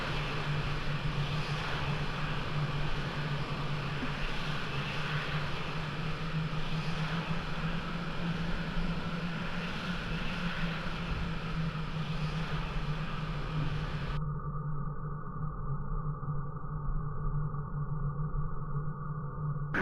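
F-16 jet engine taxiing in the flight sim Falcon 4 Allied Force, a steady loud whining roar with a low drone beneath, unchanging throughout, with no voices heard.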